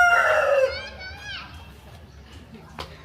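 A rooster's crow rings out near the start, drawn-out and loud, followed by quieter background sounds and a brief sharp noise near the end.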